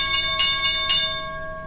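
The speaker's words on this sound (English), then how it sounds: "that's the market bell kicking off the trading session" The stock exchange opening bell rings for the start of a trading session: a steady, sustained metallic ringing with a few rhythmic pulses, heard alone and then fading slightly.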